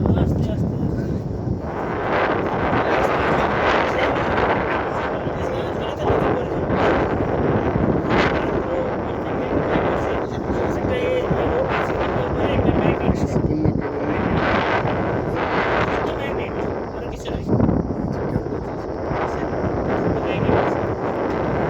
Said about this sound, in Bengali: জানালা দিয়ে সুন্দর শীতল বাতাস আসছে।